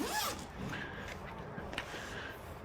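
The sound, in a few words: zipper on boom gate packaging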